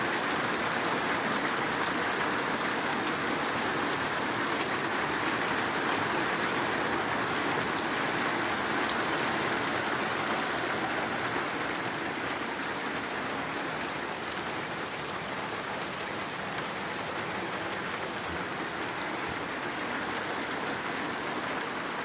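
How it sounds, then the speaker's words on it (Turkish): Steady, dense rain pours down without a break, a loud hissing downpour drumming on surfaces throughout, with no voices. "Müthiş bir sağanak var"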